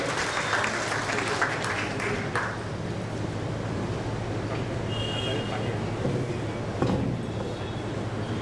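An audience at a memorial gathering claps to welcome a speaker, a steady crowd applause that thins after a couple of seconds into a quieter murmur of room noise and scattered sound.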